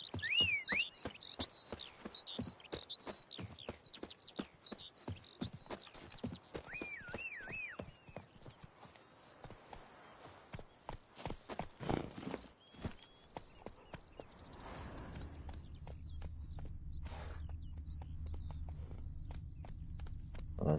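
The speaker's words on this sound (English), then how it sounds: "I don't think I can gather while on the horse, which kind of sucks." Horse hooves clip-clop at a steady walking rhythm in the Witcher 3 video game, close and fairly loud over faint ambient nature sounds, then stop, leaving a low steady hum.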